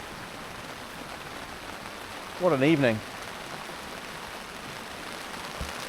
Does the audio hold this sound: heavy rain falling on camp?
yes